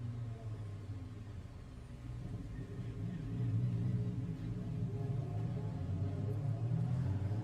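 Ginetta G55 GT race car at the Macau street circuit, a steady engine drone and low rumble that swells slightly louder partway through, heard from a distance with no voices.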